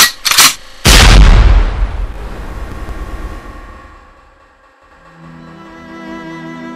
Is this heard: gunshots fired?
yes